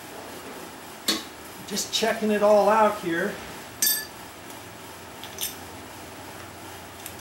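The glass shade of a new light fixture clinks and knocks against metal parts as it is handled, giving several sharp, close chinks spread across the moment, with someone talking briefly in between.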